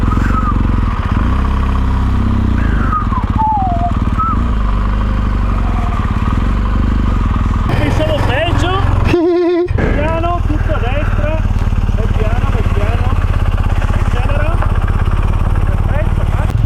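A BMW R 1200 GS Adventure (2017) motorcycle climbs a mountain road toward a refuge, its engine droning steadily throughout with shifting pitch, and a brief louder burst near the middle.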